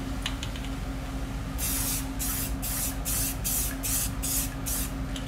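A white spray paint can hisses onto a laser-cut circuit board in a series of about seven short, sharp bursts at an even rhythm, close by, after a moment of quiet background hum.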